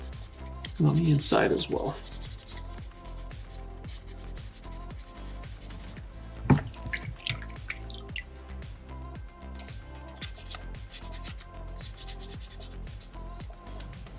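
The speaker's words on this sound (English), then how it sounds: "And just really kind of run that sandpaper around the base of that horn" Sandpaper rubs around the horn base of a small soapstone bison carving, soft, faint scratchy strokes repeating in an uneven rhythm while someone speaks briefly.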